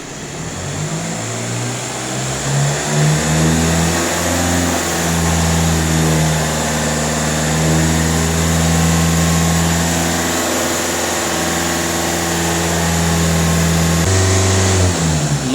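A Skoda Octavia A7 diesel with a particulate filter, its engine revved from idle and held at raised revs, a steady loud mechanical hum with a brief pitch change near the end.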